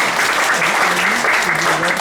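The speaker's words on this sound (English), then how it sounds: "Let's give Algis an extra applause" Applause from a business forum audience in Oslo, dense steady clapping throughout with a voice speaking faintly over it.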